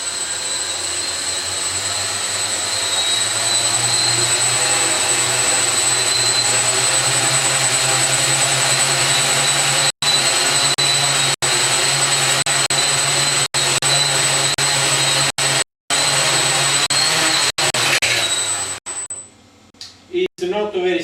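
AeroQuad quadcopter in X configuration held at about half throttle, its motors giving a steady loud whine with a constant tone and a few brief dropouts before winding down near the end; a person talks over it.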